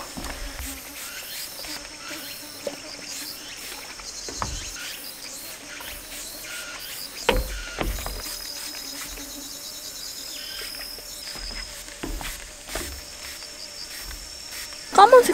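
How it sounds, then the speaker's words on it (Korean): Insects, crickets and flies, buzz and chirp around a campsite in a forest recreation area, a steady insect drone with brief close buzzes passing by, while a person talks at times. "윙윙거리면서 계속 얼굴 주변에 붙어요"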